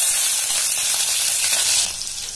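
Mustard seeds and dried chillies fry in hot oil for semiya upma, a dense close sizzle and hiss that stays loud before easing slightly at the end.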